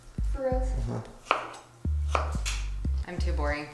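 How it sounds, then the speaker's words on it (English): Knife chopping vegetables on a board for village-style salsa, a run of close, sharp thuds in irregular bursts with brief pauses, with faint voices in the background. "So we're just chopping away."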